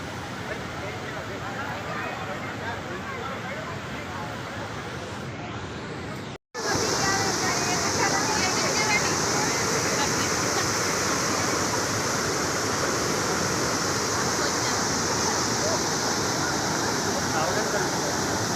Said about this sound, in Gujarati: પાણી પડે.